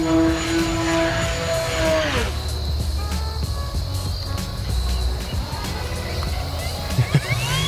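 An FMS Kingfisher 1.4m RC plane flies overhead, its electric motor whine sweeping in pitch as it passes and fades, with steady wind and background noise and people talking nearby.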